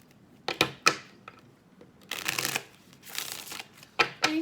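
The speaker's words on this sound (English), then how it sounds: "let me go ahead and do one more shuffle" A deck of tarot cards is shuffled up close in several quick riffling bursts, each a crisp papery flutter, separated by brief sharp taps and short pauses in a quiet room.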